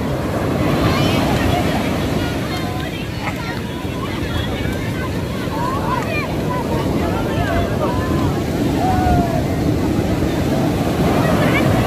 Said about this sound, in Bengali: পাড়ে এসে কিন্তু ঢেউগুলো ভাঙে।